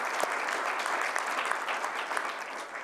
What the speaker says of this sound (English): So I'd like to give a round of applause to our